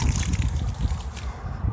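Liquid no-rinse sanitizer poured out of a bottle on bottling day, a steady close trickle and gurgle running continuously with no talking.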